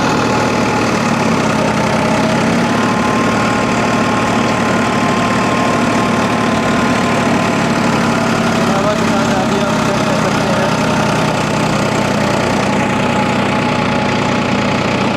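A Farmtrac 45 Powermaxx 50 HP diesel tractor engine runs steadily and loudly up close in second high gear on a sandy soil slope, its rough chugging drone unbroken throughout.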